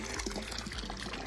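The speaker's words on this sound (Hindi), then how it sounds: "ये पानी आ रहा है चश्मे का" Spring water runs steadily at an outdoor washing place where people wash clothes, a continuous close splashing trickle with no pauses.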